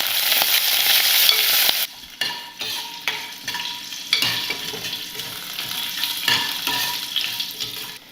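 Cumin, green chilies and curry leaves sizzling as they are stirred in a hot pan, with steady frying crackle and repeated scrapes and clinks of a spoon against the metal.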